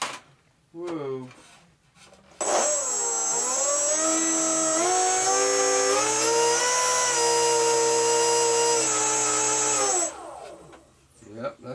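The electric motor of a GWS Formosa RC plane winds up to a loud, steady high-pitched whine for several seconds, then spins down, with brief speech just before and after it.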